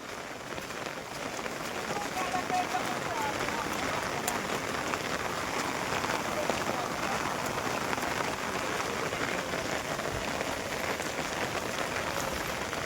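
Steady monsoon rain pours down across open farm fields, a dense, continuous hiss of drops hitting the surface, fairly close and unbroken throughout.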